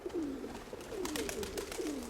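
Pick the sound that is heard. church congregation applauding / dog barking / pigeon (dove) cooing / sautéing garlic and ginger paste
pigeon (dove) cooing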